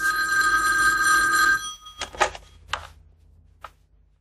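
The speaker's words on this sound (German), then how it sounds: "Wieso gehst du denn wieder ans Telefon? Weil es wieder geklingelt hat." An old-fashioned telephone bell rings loudly and continuously for about a second and a half, then stops, followed by a few clattering handling knocks of the handset.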